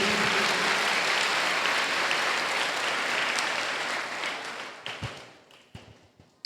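A church congregation applauds Jesus during a sermon, a dense wash of clapping that holds steady for several seconds, then thins out and fades to a few scattered claps.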